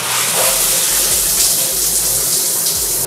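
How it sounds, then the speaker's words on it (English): Water from a large shower head in a luxury condo bathroom on Koh Samui runs as a steady, broad hiss, loud and continuous throughout with no voices. "Big shower head."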